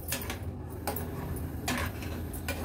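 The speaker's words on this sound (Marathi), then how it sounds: "व्यवस्थित मिक्स करून घेते मी" A spoon stirs milk and water heating together in a metal pot, giving a few light scraping clinks against the sides over a steady low kitchen hum.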